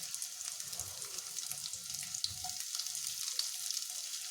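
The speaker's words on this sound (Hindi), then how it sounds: "इन आलूओं को भी हम थोड़ा रोस्ट कर लेंगे।" Mashed boiled potatoes roast in a pan for aamti, giving a steady, soft sizzling hiss with faint scattered stirring ticks underneath, fairly quiet and unbroken.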